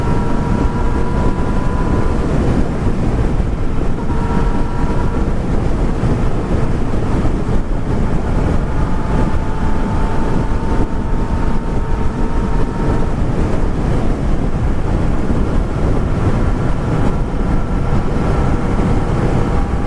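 A Yamaha XSR900 with its 900 triple engine hums steadily while riding, a smooth, fairly quiet drone buried under heavy wind rush throughout, with no talking.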